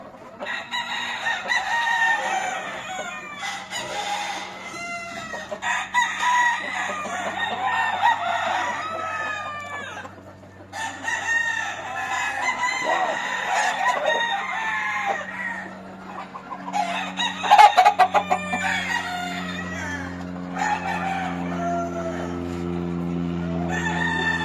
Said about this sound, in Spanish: Estos gallos.